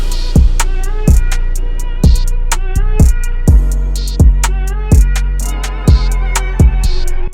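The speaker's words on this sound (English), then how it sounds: "it allows me to make beats that sound like this." Hip-hop beat built from sampled vinyl records, with a steady pounding kick and snappy drum hits over looped melodic samples and deep bass, loud and alone.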